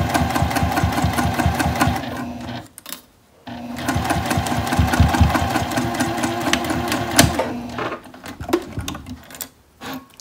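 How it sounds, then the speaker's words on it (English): A sewing machine stitches fabric for an ID holder, its rapid mechanical whirring running in steady stretches broken by a brief pause and a few irregular stops near the end. "I'm gonna slide it out of the way and continue to sew."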